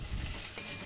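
Flattened poha being stirred and roasted in a kadhai gives a steady, soft dry scraping with a light sizzle, close and continuous, with one brief louder scrape partway through and no voices.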